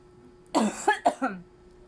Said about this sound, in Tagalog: Inuubo pala si mama guys.